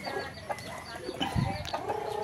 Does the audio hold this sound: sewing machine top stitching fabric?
no